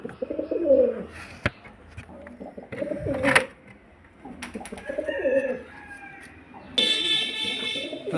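Punjabi Malbahi pigeons coo in soft, repeated bursts at close range, with scattered rustling and clatter and a brief high-pitched buzz toward the end.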